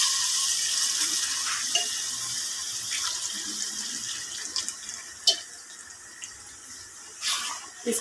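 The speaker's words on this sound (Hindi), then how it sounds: "अंडे और आलू की भुनाई होने के बाद इसमें हम 2 गिलास पानी ऐड करेंगे।" Two glasses of water poured into a pot of potato and egg curry after the eggs and potatoes have been fried with yogurt, giving a steady close splashing hiss with a few sharp clinks and drips throughout, no talking.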